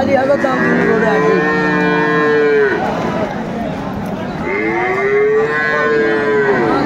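Two long, loud moos from Sahiwal cattle, one after another with a short gap, over a busy background of outdoor crowd noise at a cattle market in Aftabganj, Dinajpur.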